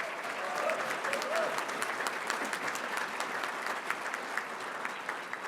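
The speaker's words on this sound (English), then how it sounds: "Give them a round of applause." A large audience at a Detroit Red Wings hockey event gives sustained applause, dense clapping at an even level with faint crowd murmur and a voice beneath it.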